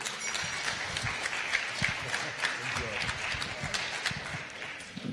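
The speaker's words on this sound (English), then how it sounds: "Ladies and gentlemen, let's have a big cheer" An audience at the World Arabian Horse Racing Conference in Rome applauds in a steady, moderately loud burst of clapping that lasts several seconds.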